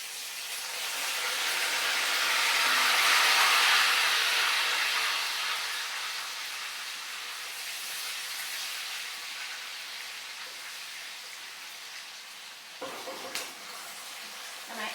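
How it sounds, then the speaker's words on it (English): Onions hit hot oil in a pot for Nigerian tomato stew, giving a loud broad sizzle that swells over the first few seconds and then settles into a steady hiss, with a few clatters near the end. "I go in adding my onions."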